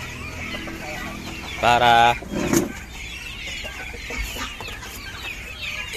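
Chickens and Muscovy ducks cluck and squawk agitatedly before feeding, a busy farmyard chorus with a louder burst of calls near the middle, while a person speaks briefly over the noise.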